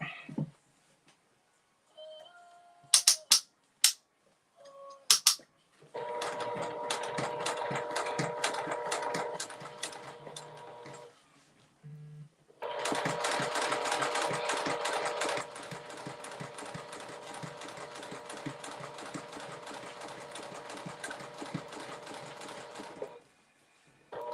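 Sewing machine stitching a fabric notebook holder, running in two long steady stretches after a few short taps, loud and close with a brief pause for pivoting between them; no speech.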